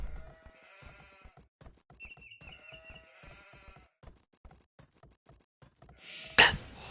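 Sheep bleating in a video game during a tournament match, with several repeated bleats amid soft clicks and light game effects, ending in a sudden loud burst.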